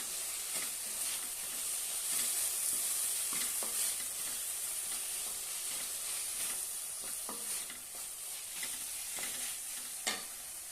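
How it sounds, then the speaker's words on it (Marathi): Potato chutney with red chilli powder, salt and garam masala sautéing in a pan, a soft continuous sizzle with repeated stirring scrapes, fairly quiet and close. "छानपैकी परतून घेऊया"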